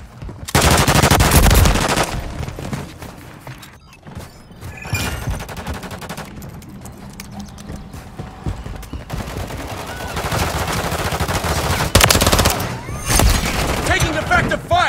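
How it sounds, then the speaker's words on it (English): Machine gun fire in Modern Warfare 3 team deathmatch, loud sustained automatic bursts with short pauses across the whole stretch and louder volleys near the end, with voices talking over the shooting. "Taking effective fire"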